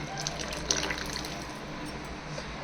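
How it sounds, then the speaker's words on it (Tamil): Water pours steadily into a cooking pot for sambar rice with a continuous splashing rush, close and fairly loud, with no talking. "தண்ணி ஆட் பண்ணிக்கணும்."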